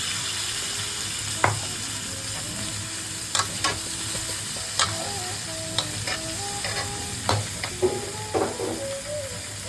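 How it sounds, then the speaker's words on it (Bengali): A spoon stirs fried vegetables into a well-cooked spice masala for a Bengali-style mixed vegetable dish, steady sizzling hiss with sharp intermittent scrapes and clinks against the pan, close and alone. "এবার আমি ভেজে রাখা সবজিগুলো আবার মিলিয়ে দিই।"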